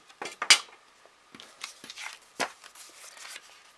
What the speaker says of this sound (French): on va couper des 2 côtés